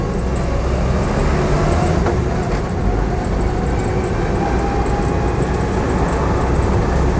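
Land Rover Lightweight fitted with servo brakes driving along, a continuous coarse mechanical rumble and road noise at steady loudness, recorded close with no talk.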